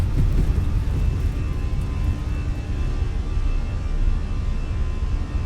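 Airliner jet engines roar at takeoff power in Microsoft Flight Simulator, a loud, steady broadband rush with deep rumble and a faint whine, continuous throughout with no voices.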